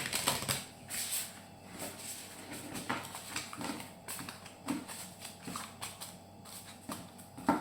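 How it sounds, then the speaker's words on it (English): An oracle card deck, the Sacred Traveler, is shuffled by hand, giving a quiet, uneven patter of flicking and tapping card edges in irregular bursts, fairly faint and close. "The shuffling is crap, let me tell you."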